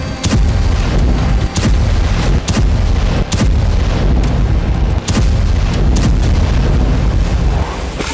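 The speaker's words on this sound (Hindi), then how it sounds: "1 मिनट के अंदर इजरायली एयरक्राफ्ट ने 1 दर्जन धमाके कर डाले।" Heavy explosions from an airstrike on Gaza boom one after another, a dozen or so deep blasts in quick succession, loud and rumbling with no pause between.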